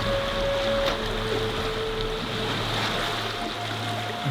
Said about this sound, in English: Such nice paddling.